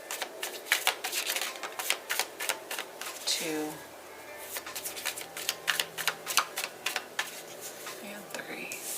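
Tarot cards shuffled by hand in a run of quick, crisp riffling clicks and rustles, close and fairly loud, with a brief pause partway through and some quiet speech at the start.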